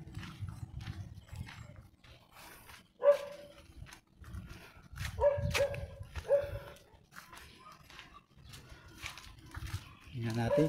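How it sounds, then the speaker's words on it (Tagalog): A dog barks outdoors near a Roman Catholic cemetery, with a few separate barks at some distance spread across the stretch while people talk over them. "Yun ang aso kagabi."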